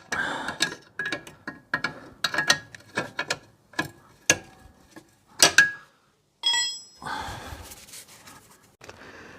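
Socket wrench ratcheting on a seized exhaust bolt under a 1990 Toyota MR2 Mk2 SW20, bursts of sharp metallic clicks and clinks in uneven spurts with short pauses, close and clear.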